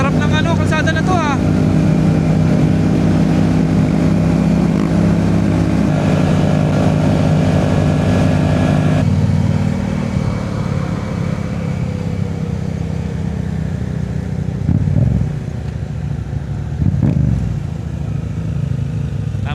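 A motorcycle rides along a smooth road in Bangkok, Thailand, its engine droning steadily and close throughout, with a shift in tone partway and a couple of louder bumps near the end, mixed with traffic noise.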